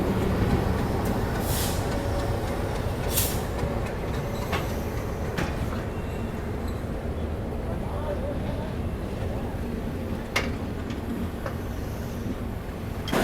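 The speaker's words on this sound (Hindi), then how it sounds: "बगल में Vijayawada Chennai central Vande Bharat express arrive हो रही है चेन्नई सेंट्रल पे" A Vijayawada–Chennai Central Vande Bharat Express arrives at Chennai Central station, heard as a steady, loud rumble of rolling train noise with occasional sharp hisses and clanks, under busy platform ambience.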